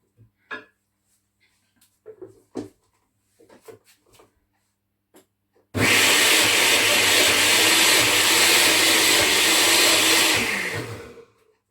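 After some sparse clicks and knocks, a blender roars on loudly and runs steadily for about five seconds before winding down, in a home kitchen during akara preparation.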